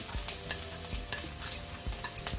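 Finely chopped garlic sizzles in hot coconut oil in a pan, a dense continuous crackle broken by quick scraping stirs at a steady pace.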